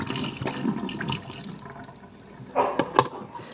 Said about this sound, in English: Fill with water.